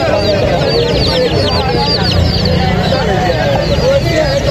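Busy high-pitched chirping and peeping from many chicks, continuous and close, over a noisy crowded bird market background with people talking.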